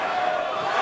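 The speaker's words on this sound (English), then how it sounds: "listen to the crowd" Pool hall crowd at the 2016 Mosconi Cup reacting during a doubles match, a steady murmuring roar of many voices that stays level throughout, with no single clear shout standing out.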